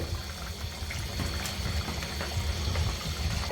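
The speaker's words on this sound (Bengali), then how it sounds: "এখন আমি ভেজে রাখা মাছগুলো দিয়ে দেব।" Fried rohu fish pieces go into a simmering curry; a steady close bubbling and sizzling of liquid continues throughout with faint clinks.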